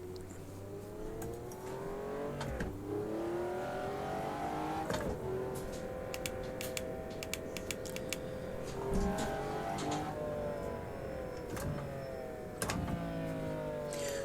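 A race car in the sim game Automobilista 2 pulls away, its engine rising and falling through repeated gear shifts, loud and close with a raspy whine and no one speaking.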